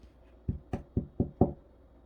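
Five quick knocks on a door, close and fairly soft, evenly spaced in a short burst with quiet around them.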